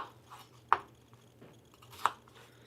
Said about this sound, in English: But cut your potatoes into small pieces.